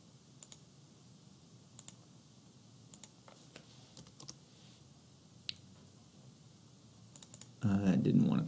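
A computer keyboard and mouse are used while dimensioning an oak chair design in OnShape, giving sparse, sharp clicks and key taps spread through a quiet room before a voice begins at the end.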